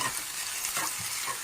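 Green chillies and onions fry in hot oil in a pan, a close, steady sizzle with light stirring scrapes over a brief moment.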